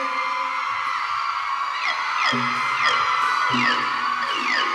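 Crowd of fans at a Thai likay folk-theatre performance shrieking and whooping in repeated rising bursts over a steady bed of loud, distant crowd noise and music.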